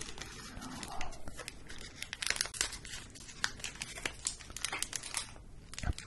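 A Pokémon card booster pack wrapper is crinkled and torn open up close, with dense bursts of crackling plastic and sharp rustles continuing for several seconds, quiet and intimate.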